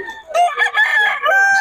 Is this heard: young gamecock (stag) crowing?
yes